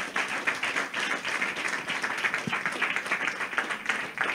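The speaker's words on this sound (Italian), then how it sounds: "un applauso per Simone." An audience at a Lega campaign candidate presentation for Rivarolo applauds for Simone, with steady, dense clapping at moderate distance throughout and no voices.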